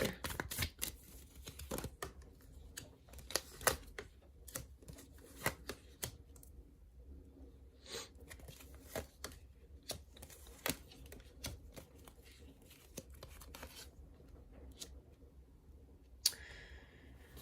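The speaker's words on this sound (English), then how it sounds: "Let's pull out a few more cards and see though." Tarot cards being shuffled and drawn at close range, with scattered soft flicks, taps and riffling clicks over about seventeen quiet seconds, no talk.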